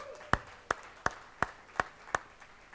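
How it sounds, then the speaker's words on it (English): A handful of sharp, evenly spaced claps at a tech meetup, about six distinct hand claps at a steady rhythm with quiet gaps between, fairly close and sparse rather than a full crowd ovation. "I want us all to give him a round of applause."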